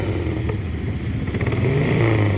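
A drag-racing motorcycle in the near lane at a Santa Barbara drag race, its engine roaring steadily as it accelerates, loud and continuous for a couple of seconds with no voices.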